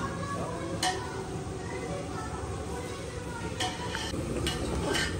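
Ground coriander and cumin go into a pan and are stirred, with scraping and occasional sharp utensil clicks on metal over a soft sizzle, while people talk nearby.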